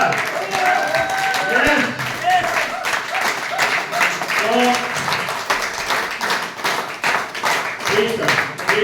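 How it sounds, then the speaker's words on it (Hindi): An audience at an event in Fatehabad claps loudly and steadily for about nine seconds after a meeting presentation, with voices and other sounds running underneath the applause. "दोनों हाथ ऊपर करके खड़े होकर तालियां बजा सकते हैं क्या?"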